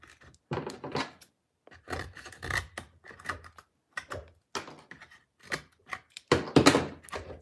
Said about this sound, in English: These are like crappy scissors.